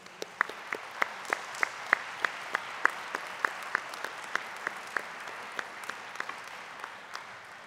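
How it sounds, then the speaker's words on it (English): At a graduation event, a small audience claps in sparse, distinct individual claps at a slow, irregular rhythm, fairly faint and heard from a distance across a large room. "Could you please clap and recognize your families?"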